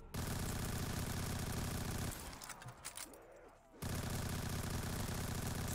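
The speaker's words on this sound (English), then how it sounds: "this is an SMG" Custom zombies map in Black Ops 3: an SMG rattles in long, rapid full-auto bursts, loud and close, broken by a short pause with quieter scuffling before the firing resumes just as intensely.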